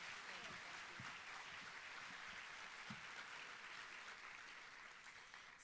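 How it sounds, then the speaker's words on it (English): Applause at a school district celebration honoring a retiring teacher: a crowd claps continuously in a large room, a dense, even patter that stays steady and fades slightly near the end. "we need to give her a big applause in case I forget for all the work she put into this"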